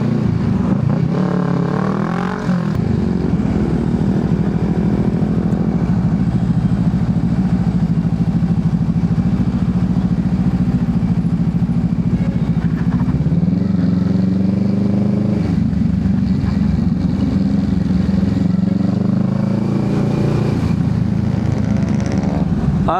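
A motorcycle rides over a dug-up, excavated road in the Philippines, its engine a continuous close drone that shifts pitch with throttle changes, with rattling and clatter over the rough surface.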